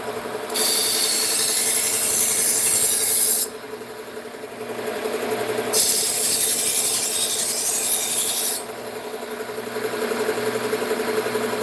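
A knife with a broken tip is being sharpened, heard as long, steady, gritty scraping strokes: two sustained passes separated by quieter pauses, close and loud over a low background hum.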